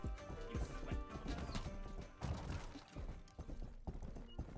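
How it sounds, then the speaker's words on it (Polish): Horse in the video game Rustler galloping with quick, rhythmic hoof clip-clops, plus an occasional neigh, close and continuous over the whole stretch. "Szybko na konia."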